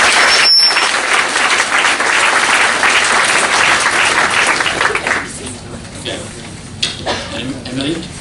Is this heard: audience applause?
yes